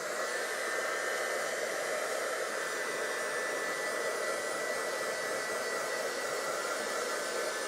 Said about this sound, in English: I'm going to use the heat tool.